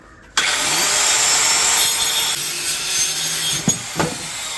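A hand-held cutter bites into wood for a swing, starting abruptly with a loud continuous grinding, whining roar that holds steady for several seconds, then dips and ends with a couple of knocks, close and alone.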